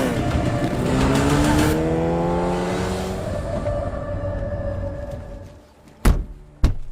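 A car roars loudly nearby, then drives away as the engine steadily fades into the distance, followed by two sharp thuds close by.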